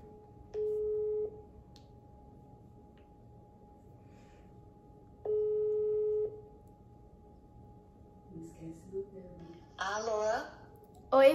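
Two long ringback tones pulse from a telephone while a call is placed, faint and evenly spaced, followed by quiet talk as the line connects.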